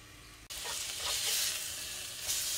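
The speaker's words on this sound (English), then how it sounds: "We're gonna sear this tuna baby for maybe 2 to 3 minutes on each side." A tuna steak hits a hot cast iron pan with a sudden burst of loud, close sizzling that holds steady and swells slightly, a bright continuous hiss with no voices over it.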